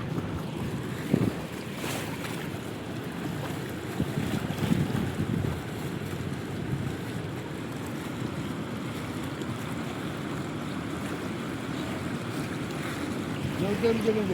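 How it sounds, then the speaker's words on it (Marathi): Water rushes through the nine gates of Jayakwadi dam as a steady, rumbling wash with wind buffeting the microphone, moderately loud and constant, with a voice speaking occasionally over it. "पाण्याचा आवाज आहे का फक्त तुम्ही पाण्याचा आवाज ते तुम्हाला दाखवतो"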